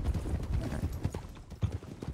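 Horse hooves clip-clop in the Western roleplay game RedM, a quiet, uneven patter of soft thuds from several steps close by, with no talking.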